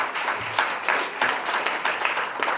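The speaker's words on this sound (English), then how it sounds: "Give him a round of applause," Audience applause at a National Action Network event, a dense, continuous crowd clapping with a pulsing rhythm, fairly loud and close throughout.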